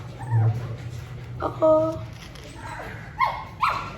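A dog whimpers and gives a few short high yips in brief bursts, with a person speaking quietly between them.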